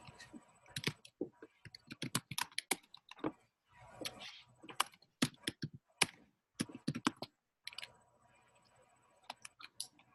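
Computer keyboard typing runs as a fast, irregular stream of sharp clicks and taps, near and fairly loud, with brief pauses between bursts and faint speech in the background.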